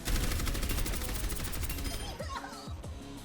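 Orisa's gun in the game Overwatch fires in a dense, rapid stream of loud shots over music and effects, the barrage thinning into sparser impacts near the end.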